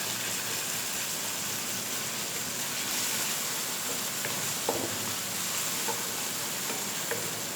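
Moong daal ingredients frying lightly in hot oil until brown, a steady close sizzle with soft stirring scrapes throughout and no voices.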